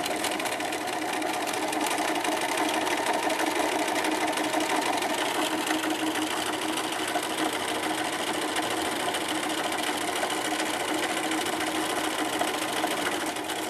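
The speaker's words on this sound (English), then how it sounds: "now I'm going to come sew 5/8 seams on both of those" Sewing machine stitching 5/8-inch seams on a ski hat, a steady close whirring hum running without a break for the whole stretch, with no talking over it.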